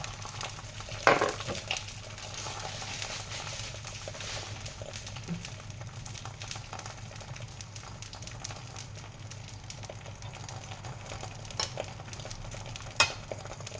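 Food fries in oil in a pan, producing a steady soft sizzle with occasional clinks of a utensil stirring, faint and continuous throughout.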